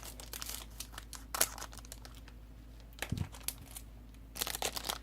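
Foil wrapper of a sealed Japanese Pokémon booster pack crinkles and tears as it is carefully opened, with soft, intermittent crackles and a brief rip, close and quiet over a low steady background hum.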